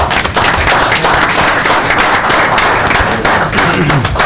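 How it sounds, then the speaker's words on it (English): An audience at a Marion city council meeting gives a guest a sustained round of applause, dense and steady clapping from many hands filling the room without a break. "have another hand for this guy"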